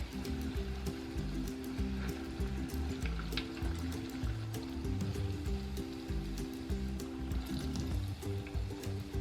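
Vegan donuts, some of them filled, frying in hot oil with a steady close sizzle and bubbling that holds even throughout, with no talking.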